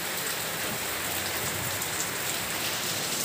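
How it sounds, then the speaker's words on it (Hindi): Heavy rain pours steadily outside, a dense continuous hiss of drops on surfaces at close range with no voices. "बाहर बहुत तेज बारिश हो गई है"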